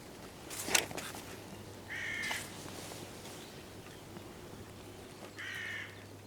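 Hooded crows give a few hoarse caws from moderately far off, one near the start and two more spaced apart later, over a quiet outdoor background with a low steady hum.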